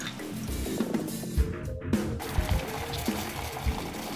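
Water is poured into another container nearby, a soft uneven stream of splashes and gurgles with small knocks against the vessel.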